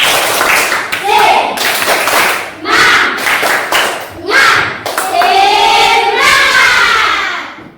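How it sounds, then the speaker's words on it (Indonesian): A primary school class claps hands together in a quick patterned rhythm, several bursts of claps close by, with voices chanting along. "semua tepuk semangat"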